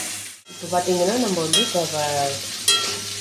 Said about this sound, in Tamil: எண்ணெய் ஊற்றி கடுகு, வெங்காயம், கருவேப்பிலை தழை, கொஞ்சம் பெருங்காயப்பொடி எல்லாம் போட்டு